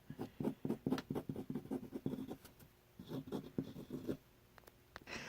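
A Wing Sung 235 vintage fountain pen with an extra fine nib scratching across paper, a close, quiet run of rapid strokes with brief pauses between words.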